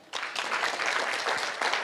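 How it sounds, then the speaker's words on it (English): An audience at an investment forum in Adelaide, Australia, bursting into applause after a brief quiet start, the clapping coming in dense, lively waves that stay loud to the end. "Give a better clap."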